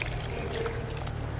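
Water poured from a clay cup into a pot for cooking, a soft, brief trickle over a low background hum.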